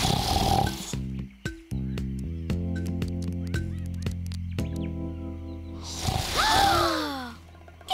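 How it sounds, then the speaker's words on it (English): A cartoon crocodile snores in a string of loud, rhythmic tonal snorts and honks, with a breathy sigh at the start and squeaky whistling tones near the end, all alone without talk. "It's Crocky snoring!"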